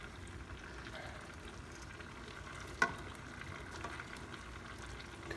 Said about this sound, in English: And we're gonna stir this as we cook it.